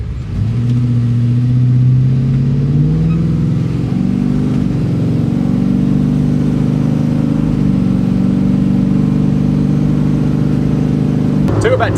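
A car on a test drive hums steadily from inside the cabin, a loud, low engine drone with a slight rise early on as it accelerates, and a voice talks over it.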